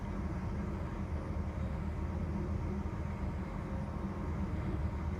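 A train rolling along on a peaceful journey, heard as a steady, low, continuous rumble with a soft wash of higher noise, even and calm with no distinct events.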